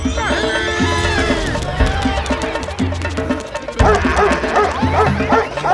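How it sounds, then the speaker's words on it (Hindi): Several cartoon dogs bark and yip close by, loud and overlapping, with whimpering mixed in and a burst of more excited barking near the end. "अरे मेरे पे क्यों भौंक रहे हो?"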